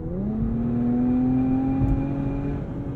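A 2023 Infiniti Q50 Red Sport engine accelerating, heard as a steady, loud, close drone whose pitch climbs smoothly as it pulls. No talking.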